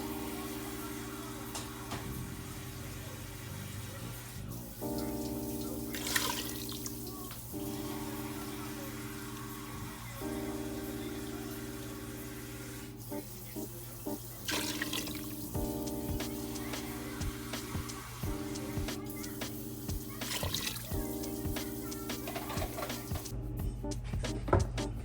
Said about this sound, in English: I'm just gonna put enough water to cover the meat.